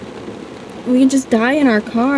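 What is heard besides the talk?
rain falling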